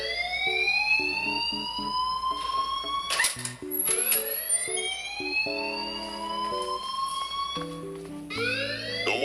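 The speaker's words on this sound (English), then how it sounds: "please turn off that alarm since that's your job" A fire alarm rings in Life Is Strange as a loud, repeating electronic alarm with sweeping tones and pulsed beeps. It sounds steadily throughout with no talk over it.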